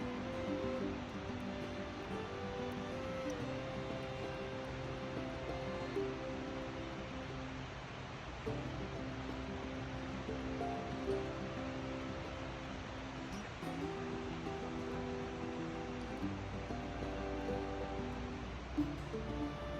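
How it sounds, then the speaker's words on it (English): Water of a mountain stream along a motor nature trail near Gatlinburg, Tennessee flows steadily, a soft continuous rushing hiss with no talk. "if I'll shut up, you can hear the water"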